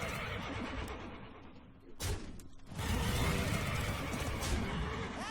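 A Dreadsteed horse in the Hearthstone video game lets out a loud whinny over layered game sound effects and background music, with a crashing burst partway through.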